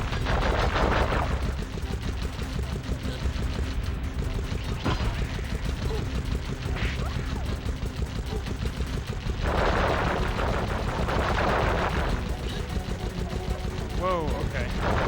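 Projectiles fire steadily in the Sly Cooper and the Thievius Raccoonus game, a dense, continuous barrage of rapid shots with periodic louder bursts over busy game sounds and music.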